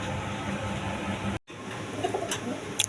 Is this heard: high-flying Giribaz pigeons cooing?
yes